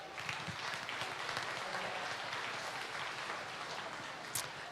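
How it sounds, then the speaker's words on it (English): Quiet applause from spectators at a state fair beef cattle show, a soft, even patter of clapping heard from a distance and continuing for several seconds. "If we can give everyone a round of applause who helped make today happen."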